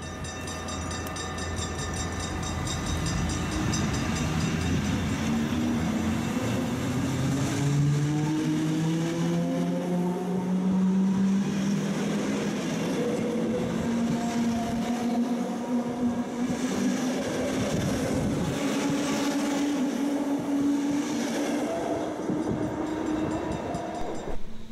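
A Mat'64 sprinter train pulls away from Geleen station, its motors whining upward in pitch as it accelerates, loud and steady with rail rumble throughout.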